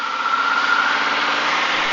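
A Piper Super Cub's light aircraft engine runs at full takeoff power, a loud, steady, close droning roar that holds constant without a break and has no talk over it.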